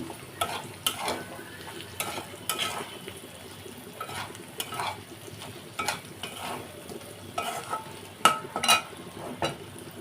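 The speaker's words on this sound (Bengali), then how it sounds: "ধনিয়া, একটু জিরা আর আদা রসুন দিয়ে এখন মশলাটা কষাবো" Eggs frying in a spice masala of turmeric, chili, coriander, cumin and ginger-garlic, a soft continuous sizzle broken by repeated spoon scrapes and clinks against the pan, close by, with no talking.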